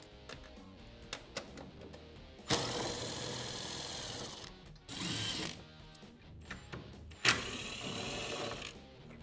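Power tool driving out Allen bolts from the bed of an Arctic Cat Wildcat side-by-side, with three loud whirring bursts between quieter clicks and handling noises.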